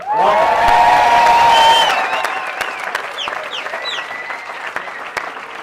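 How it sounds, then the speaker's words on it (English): A graduating class of 2018 receives loud, sustained applause from a commencement crowd at Santa Fe Prep, swelling early with shouts and cheers, then settling into steadier clapping with a few whoops. "you all really do deserve our standing applause"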